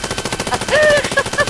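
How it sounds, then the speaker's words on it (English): Rapid machine-gun fire from the Worms Revolution video game rattles out as a loud, close, continuous burst of shots. "He's still shooting, oh god."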